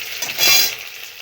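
Chopped onion and garlic fry in a pan with a bright, steady sizzle, and one loud scraping stir swells in the middle before the hiss settles back.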